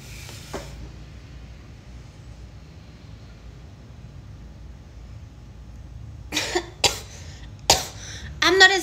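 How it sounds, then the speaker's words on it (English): Several sharp coughs late in the clip, close and fairly loud, after a long stretch of quiet room noise with one faint earlier burst. "I'm coughing because"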